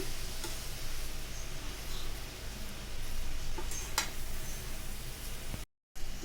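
Motichur laddu mixture being stirred with ghee in a pan, a steady soft sizzling and scraping hiss with occasional faint ticks of the spoon, continuous and close, no talking.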